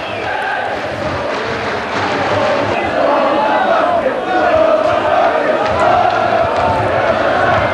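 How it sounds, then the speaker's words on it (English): Chester City fans applaud at a 2000/01 away football match against Rushden & Diamonds. The steady crowd noise holds throughout and grows slightly louder toward the end. "Applause from the Chester City fans there"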